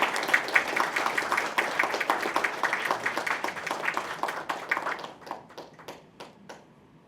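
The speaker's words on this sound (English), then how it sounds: "Let's show her our appreciation with a big round of applause." An audience applauds an ambassador at a human rights commemoration event, a dense burst of many hands clapping close by that thins into scattered individual claps and fades out.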